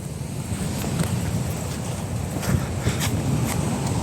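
Wind gusting and waves washing on a sea shore beside a large forest: a steady, rough rumble of surf and blustering wind across the microphone, with faint surges, and no voices.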